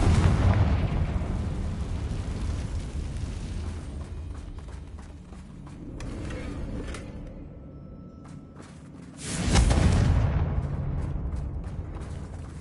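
A Confringo spell blast in a wizard game erupts with a loud, booming explosion near the end, after a stretch of rumbling combat noise and scattered smaller bursts.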